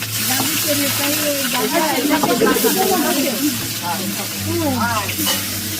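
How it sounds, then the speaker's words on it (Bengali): Fish freshly caught from a farm pond fry in a pan with a continuous hissing sizzle throughout, while voices talk over it nearby. "মাছ ভাজি চলছে"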